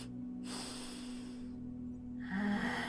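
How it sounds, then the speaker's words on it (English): A slow, deep inhale during a guided breathing exercise for lymphatic flow: a soft, airy breath drawn in over a few seconds that swells toward the end, with a steady low hum underneath and no talking. "And last time, breathe in."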